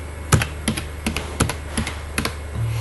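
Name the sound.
typing data on a computer keyboard into Excel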